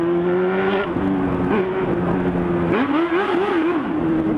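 Honda Hornet motorcycle engine revving up and down in repeated blips, loud and close, with a steady harmonic idle between throttle pulses and no talk.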